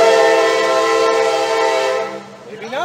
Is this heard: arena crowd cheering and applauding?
no